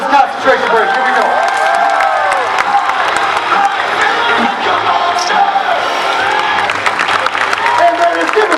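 A crowd at a Salem Fair martial arts demonstration cheers and applauds loudly, with whoops and shouts rising over steady clapping throughout.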